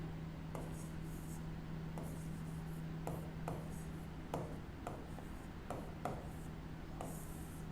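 Writing on a board or paper, soft repeated scratchy strokes in short bursts against a low steady hum, close by, with no talk.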